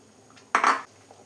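Water poured from a cooking vessel into a pot of Kerala sadhya sambar, one short splashing pour of under half a second, close and fairly loud with no talking.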